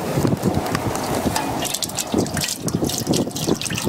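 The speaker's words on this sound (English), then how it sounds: "So I'm just going to simply fill this with oil." Cooking oil glugs and splashes as it pours into a deep turkey fryer pot, a continuous gurgling stream with scattered drips lasting a few seconds.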